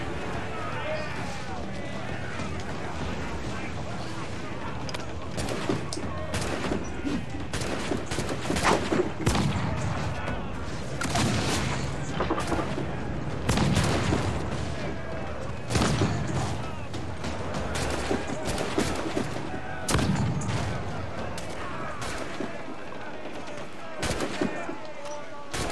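Ship cannons fire during a naval battle in Assassin's Creed 4 Black Flag, with repeated heavy booms and crackling volleys spread unevenly over half a minute as crew voices shout between and over the blasts.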